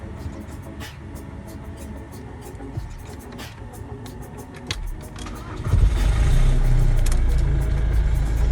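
Car engine cranking and starting on the first try after a battery replacement, rattling clicks and churning leading into a louder steady idle close by, with faint talk underneath.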